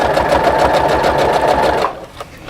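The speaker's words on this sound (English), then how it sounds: "we're just going to hold this in place and stitch" A sewing machine stitches a pillow cover with an invisible zipper, running in a steady, close, rapid whir for about two seconds before stopping, followed by a faint click and a little quiet handling.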